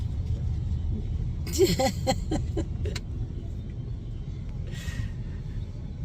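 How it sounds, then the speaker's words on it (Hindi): Heavy traffic jam on a road under construction, with a low steady engine rumble and idling cars throughout, a brief passing vehicle and horn-like tonal bursts near the middle, and faint voices. "ट्रैफिक टस से मस नहीं हो रहा है यार।"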